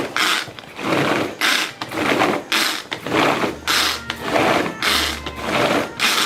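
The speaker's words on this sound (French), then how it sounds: "j'ai mixé mes fruits, mes pommes, mes poires, mes oranges" A kitchen blender whirs loudly in repeated bursts, chopping apples, pears and oranges for Christmas jam, each pulse lasting under a second with brief gaps between, close and without talk.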